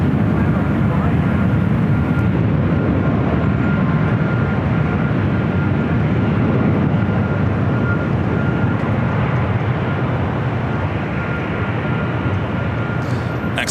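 A United Airlines jet landing at Los Angeles LAX gives a loud, steady, broadband roar that holds for the whole stretch and eases slightly near the end.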